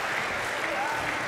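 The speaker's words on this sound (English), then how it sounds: "There's that crowd fired up for Jake." A wrestling arena crowd cheers and applauds in a dense, continuous roar, loud and steady across the whole moment, with a voice talking faintly over it.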